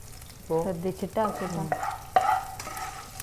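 A spatula stirs prawn roast frying in a pan, giving soft scraping strokes with squeaky tones and a faint sizzle underneath, fairly quiet and close.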